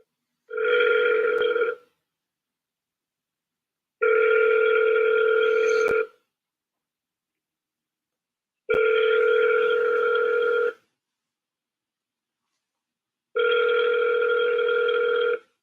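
A phone line rings during a cold call, four long even ring bursts about two seconds each, spaced by silent gaps, clear and close with no talking.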